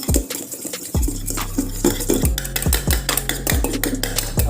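A utensil stirring a mixture into egg whites in a bowl for a fluffy omelet, repeated close scraping strokes with rhythmic knocks against the bowl, no voices.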